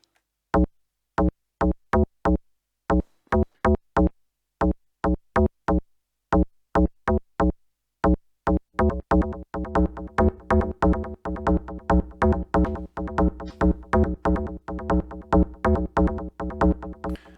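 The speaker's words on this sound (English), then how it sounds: "There we are, the hard bass, and that sounds like this." Punchy synth bass notes hit in a steady rhythm, sparse at first, then a denser, busier pattern of repeated notes fills in. No voices.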